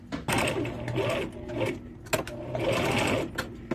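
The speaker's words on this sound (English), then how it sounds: "Now we stitch these together. Let's do 2 vertical stitches." Sewing machine stitching the seams of homemade pants, a close whirring run in several bursts with brief pauses between them and no speech over it.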